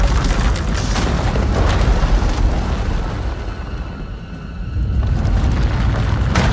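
Roaring, rumbling power eruption from Star Wars: The Old Republic, a sustained low boom that dips briefly in the middle before surging back, loud and close with no voices.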